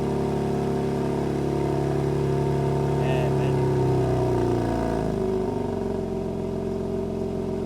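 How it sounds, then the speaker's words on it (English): The engine of a BMW M3 Competition in Skyscraper Grey Metallic rumbles steadily close by, rising in a brief rev before settling back to a deep idle, while someone speaks briefly over it. "he's probably going to rev it right now to show how the car actually sounds"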